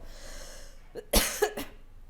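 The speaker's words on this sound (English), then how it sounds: "Excuse me for my cough" A couple of sharp, close coughs in quick succession, following a quiet breathy pause.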